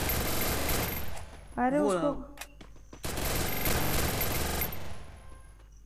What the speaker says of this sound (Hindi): हाँ वे गोली चली कहाँ चली